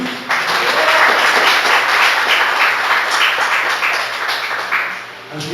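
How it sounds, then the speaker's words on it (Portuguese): Loud applause from a large congregation inside a church during a service, sustained clapping that swells quickly and fades slightly toward the end. "Você pode dar uma aplauso ao Senhor Jesus?"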